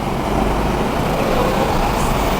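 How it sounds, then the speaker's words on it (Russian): Street traffic in Egypt with crowded minibuses driving past, heard as a steady, fairly loud broadband roar of engines and tyres with no clear voices. "полные маршрутки возвращаются"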